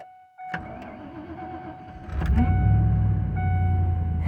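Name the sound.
1997 Ford F-150 engine cold start in snow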